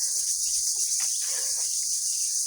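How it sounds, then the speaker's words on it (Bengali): Crickets chirp in a steady, unbroken high-pitched drone along a quiet village path, continuous and fairly close throughout, with no voices. "ঝিঝি পোকার ডাক"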